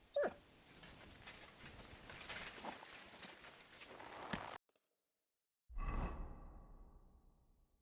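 Mutt the dog in Kingdom Come Deliverance 2 gives a short whimper at the start, then dog noises sit under busy game ambience, a sharp cut to near silence, and a return of low rumbling sound.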